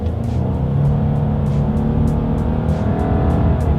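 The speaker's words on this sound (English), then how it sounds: "let's go ahead and see how quickly we can get this new 2020 Subaru Legacy here up to speed" A 2020 Subaru Legacy sedan accelerates hard, its engine giving a loud, continuous drone that holds steady throughout with no talking.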